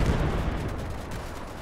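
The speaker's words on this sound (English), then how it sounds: "I hear an anti-aircraft gun. Maybe an AT gun too." An anti-aircraft gun fires during a WWII Pacific battle at Kwajalein in the shooter Easy Red 2, with heavy low booms and rumbling gunfire at moderate distance, fading across a continuous battle din.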